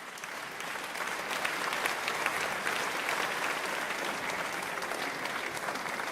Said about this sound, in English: That look, I feel like that deserves a round of applause.